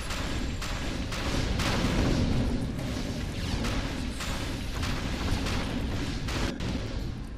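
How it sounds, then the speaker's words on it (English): Video game Defiance explosions rumble and crash in a dense, continuous barrage over nearly eight seconds, with sharp impacts breaking through a loud, steady roar. "That's a good thing other people's explosions don't kill me."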